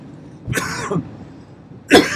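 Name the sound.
coughing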